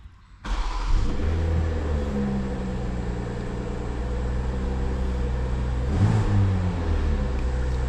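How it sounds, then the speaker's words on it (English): A BMW M340i Touring's B58 turbocharged straight-six fires up with a sharp burst, then settles into a steady, loud idle with a swelling rev around the middle before holding its throaty hum, no talking over it. "Let's get the car started."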